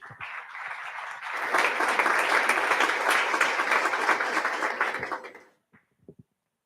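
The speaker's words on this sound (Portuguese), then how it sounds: "Quantos podem aplaudi-lo?" A church congregation bursts into loud, sustained applause during a Sunday worship service, a dense wash of many hands clapping that swells, holds for several seconds, then tapers off into silence with a few stray final claps.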